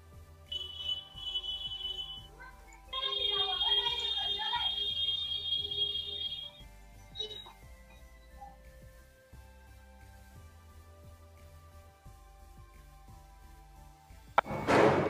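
A buzzer on a homemade smart medicine reminder box sounds several steady high-pitched beeps, with quieter tones and a faint voice in between, ending in a sudden clatter.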